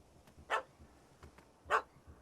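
In The Witcher 3: Wild Hunt, a dog gives two sharp barks about a second apart, fairly faint and distant, with no speech.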